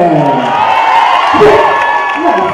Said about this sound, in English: a big round of applause for Bombay कारखाना Entertainment